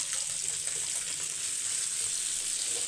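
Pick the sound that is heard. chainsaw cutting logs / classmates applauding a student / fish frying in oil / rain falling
fish frying in oil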